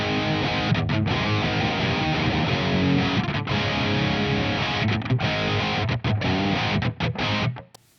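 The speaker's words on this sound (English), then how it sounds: "here we are with the guitar with the 2 notes lead engaged, and it sounds like this" A loud electric guitar through a Two Notes Cab M lead amp simulation, dense distorted chords and riffs with short choppy breaks, ending in a quick cutoff, with no voices.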